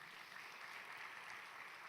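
A church congregation applauds during a worship service, a steady even wash of clapping that holds at one level throughout, soft and somewhat distant, with no talking over it.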